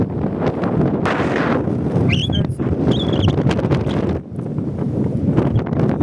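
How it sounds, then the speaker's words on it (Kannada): Strong wind buffets the microphone on a village hill in a loud, continuous roar, with a few faint bird chirps breaking through. "ಗಾಳಿ ತುಂಬ ಬೀಸ್ತಾ ಇದೆ"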